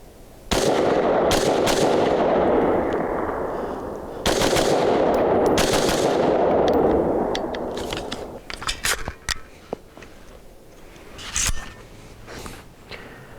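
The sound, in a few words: AR rifle firing 55 grain ball ammunition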